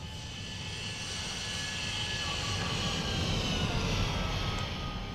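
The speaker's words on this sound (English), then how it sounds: "we can go ahead and give it the good old-fashioned X-plane flyby" A Boeing 787-9 airliner flies past in the X-Plane flight simulator, its engines making a steady, loud, broadband jet roar that holds throughout without pause.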